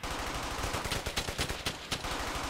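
Continuous gunfire in the World War II shooter Brothers in Arms: Hell's Highway, rapid cracking shots rattling in quick succession over a dense roar of battle, loud and close throughout.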